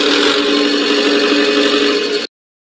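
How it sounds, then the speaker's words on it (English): Tractor engine running steadily with a droning mid-pitched hum and a rattly whir, continuous and close, then cutting off abruptly. "Tractor."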